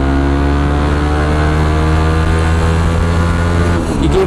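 A Yamaha WR155R motorcycle with VVA accelerates hard in gear on a top-speed run, a loud, steady engine drone whose pitch holds high and then dips briefly near the end.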